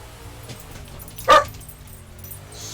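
A pet dog gives a single sharp bark indoors, close and loud above the steady engine drone of a NASCAR racing video game.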